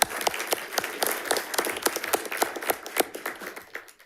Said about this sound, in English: We can give them a round of applause if you like.